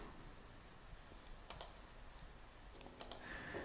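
A command typed on a computer keyboard, faint sparse key clicks with two sharper pairs of taps in a quiet room.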